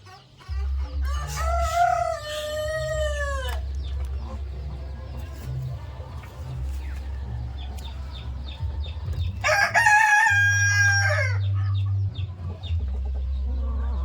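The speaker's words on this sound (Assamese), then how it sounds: "এইখন হ'ল আমাৰ আৰিয়া লেয়াৰ মুৰ্গীৰ ফাৰ্ম।" RIR layer hens on a poultry farm cluck steadily while a rooster crows twice, once near the start and again later, loud and close over a low continuous hum, with no talking.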